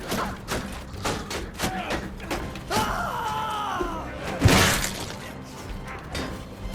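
Catapult projectiles in a Mount & Blade 2 siege land with heavy thuds and a crash of shattering debris. Mechanical creaks and scattered battle noise run around them, and one loud impact stands out near the end.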